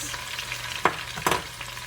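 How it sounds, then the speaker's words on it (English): Vegetable noodles with bok choy, cabbage and beans stir-fried in a pan, a continuous sizzle broken by two sharp scraping tosses of the spatula, close and loud, no talking. "So this is how I do my stir-fried vegetable noodles"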